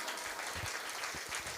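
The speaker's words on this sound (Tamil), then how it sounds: "அவர்களுடைய அந்த டெடிகேஷனுக்கு ஒரு பெரிய கைத்தட்டல் கொடுக்கலாமா?" An audience at a Tamil music concert on stage gives dense, steady applause, a continuous wash of clapping filling the short moment.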